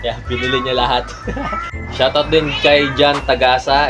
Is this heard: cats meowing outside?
yes